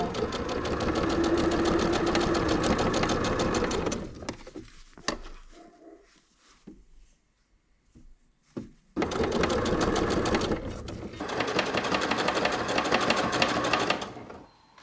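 Sewing machine stitching the shoulder seams of a summer blouse from the right side, running in two loud sustained bursts separated by a few seconds of near silence with faint handling noises.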